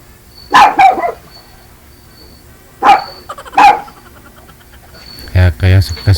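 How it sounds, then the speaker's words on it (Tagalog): A neighbour's dog barks in three short bursts of two or three sharp barks each, fairly close and loud, with quiet gaps between them. "tinatahol ng aso, ma'am, kasi andyan ka sa bayan ng kapitbahay mo"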